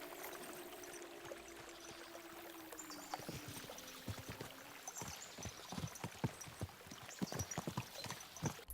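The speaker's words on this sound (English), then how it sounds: "we'll give the horses a gallop again" Horses galloping in Kingdom Come: Deliverance II, a steady run of rhythmic hoofbeats that builds and grows louder, over a soft background wash with no talk.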